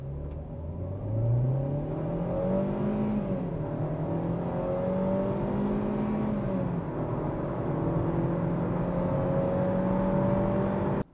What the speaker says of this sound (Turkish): 0-100 yapacağım. Bastım.